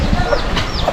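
Chickens cluck softly close by, with a couple of short calls over a busy, noisy outdoor background.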